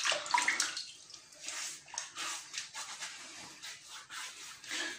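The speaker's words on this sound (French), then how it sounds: "En attendant, on va se mouiller un petit peu le visage pour préparer tout ça." Water splashes and runs near a sink as someone wets their face before a traditional shave, a series of uneven close-up splashing bursts over a faint background hiss.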